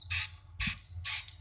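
Three short bursts from a spray can of undercoat aimed at a miniature demolished building, each a loud, close hiss of about a third of a second separated by brief pauses.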